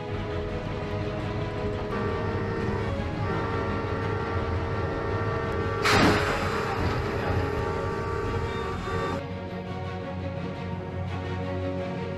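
Train rumbling along railway tracks, a loud steady drone with tonal engine hum, a brief harsh burst midway, then continuing to roll past.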